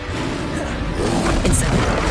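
A Confringo blast spell goes off in Hogwarts Legacy, giving a loud, dense rush of blast noise that swells slightly toward the end, with a voice briefly audible.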